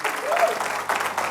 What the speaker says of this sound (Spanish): Denle un fuerte aplauso al Espíritu Santo.